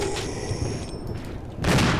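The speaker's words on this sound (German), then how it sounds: "Oh, ein Schuss verballert." Gunfire in the Resident Evil 1 zombie survival game, a sharp burst near the end after quieter in-game ambience, loud and close.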